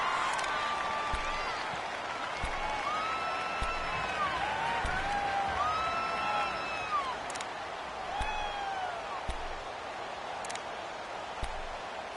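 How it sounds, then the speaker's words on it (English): Football video game stadium crowd noise for a Raiders versus Steelers game fills the clip, a steady roar with whistles and cheers rising over it, while a commentator talks throughout. "The crowd's not doing that O-line any favors."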